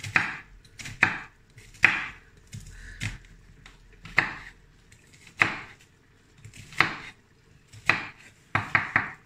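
A knife chops an ingredient for rougail saucisse on a cutting board, making sharp, irregular taps with short pauses and a quick burst of strokes at the end. No voices.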